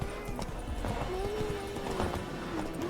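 Geralt's horse Roach in The Witcher 3 plods along with steady rhythmic hoof clops under ambient game music and a low background hum, moderately quiet.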